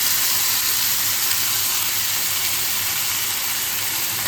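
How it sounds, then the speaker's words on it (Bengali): Prepared sauce hits a hot pan of crispy honey chicken, giving a loud, steady, even sizzling hiss that holds without pause. "সেই সঙ্গে যে সসটা বানিয়ে রেখেছিলাম সেটা ঢেলে দিচ্ছি।"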